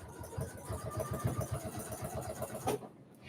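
A sewing machine motor runs in a steady, close, mechanical hum with a rhythmic stitching pulse while sewing a caddy bag over a thick bump, then cuts off abruptly near the end.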